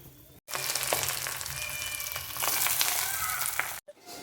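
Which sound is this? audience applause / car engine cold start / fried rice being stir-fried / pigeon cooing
fried rice being stir-fried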